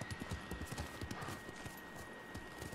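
Horse hooves clip-clop in a steady quick rhythm on the ground in the game Ghost of Tsushima, moderately loud and alone over faint ambient background.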